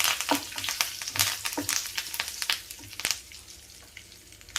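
Curry leaves fry in hot oil for goruchikkudu pulihora, a busy crackling sizzle with rapid pops and spatters, close and loud, no voices.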